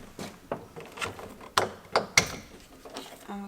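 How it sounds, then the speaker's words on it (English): A tweeter speaker is pried out of a Honda Civic EK door with the inner panel removed, giving a quick series of small plastic clicks, snaps and scrapes, close and sharp. "I'm going to take off this tweeter"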